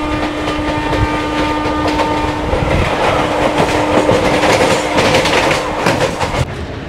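The Kolkata–Digha express, train 03161, runs at around 100 km/h, giving a loud continuous rumble with rhythmic clatter of wheels on rails throughout, and no voices.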